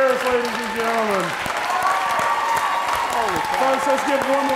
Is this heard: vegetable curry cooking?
no